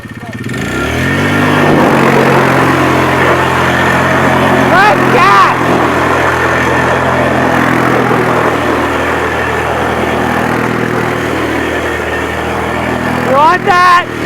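A utility quad engine idles and then revs up loudly nearby while towing a toboggan, surging and holding a strong drone before it eases off, with a short rev near the end and people talking over it.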